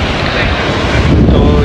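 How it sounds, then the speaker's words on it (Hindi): Strong wind at the seaside buffets the microphone in a loud, steady roar, with a hint of surf blended underneath through the short stretch. "बड़ा प्यारा मौसम हो रहा है, बहुत हवा चल रही है"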